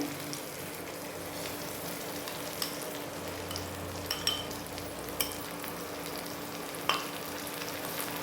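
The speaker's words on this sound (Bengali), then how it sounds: "মশলাটাকে একটু ভেজে নিচ্ছি আমি" Spice paste frying in a pan with raisin and nut paste and peas for dhokar kofta, a steady soft sizzle with occasional light clicks of stirring, no talking.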